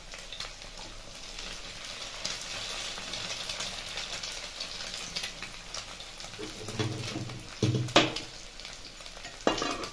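Two cracked eggs fry together with nearly boiled potatoes in a pan for a Bengali egg-potato bhaja, a steady close sizzle with scraping stirs and a few louder clanks of the spatula against the pan.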